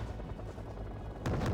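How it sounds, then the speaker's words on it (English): Heavy gunfire from BTR-80 armoured vehicles in the wartime strategy game Wargame Red Dragon, a low steady rumble that breaks into a louder burst of shots near the end, with no voices. "The MI8's moving up, taking some heavy fire from the BTR-80s"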